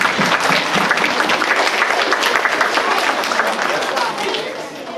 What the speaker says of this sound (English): Do you want to give him a round of applause again?